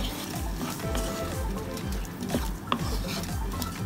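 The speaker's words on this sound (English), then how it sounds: "You add the shrimp, you guys. It's nice to put in the sauce." Shrimp go into a pan of pasta sauce for seafood pasta, with repeated stirring scrapes, soft clinks of a utensil against the pan and a light sizzle underneath.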